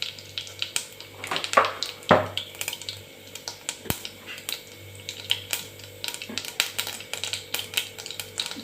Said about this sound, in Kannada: ಈಗ ಸಾಸಿವೆ ಸಿಡಿದ ನಂತರ